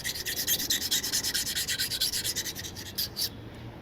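Close, rhythmic back-and-forth scrubbing of old head gasket residue off an engine block under light pressure, a quick series of even rasping strokes that slow and stop near the end.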